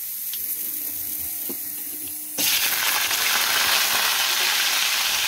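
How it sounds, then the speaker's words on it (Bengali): Garlic cloves and four green chillies hit hot oil tempered with black cumin, starting with a sudden loud, dense sizzle about midway that holds steady to the end after a quieter kitchen lead-in. "কড়াইতে আমি রসুন আর কাঁচা লঙ্কা দিয়ে আমি এটা হালকা ফ্রাই করে নিচ্ছি"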